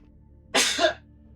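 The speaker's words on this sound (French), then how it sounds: "Je vais re-éternuer." Another close, loud sneeze erupts in two quick bursts at a HeroQuest board game table, then quiet room tone returns.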